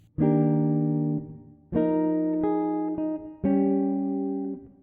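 Three ringing chords on a clean electric guitar, each struck and left to sustain, the middle one shifting notes, played alone at a slow pace.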